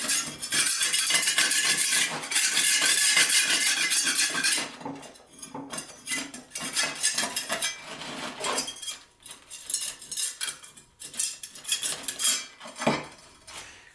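A steel trowel scrapes leftover concrete off mini bricks, with dense metallic scratching strokes up close, then a run of irregular clinks and scrapes. No one speaks.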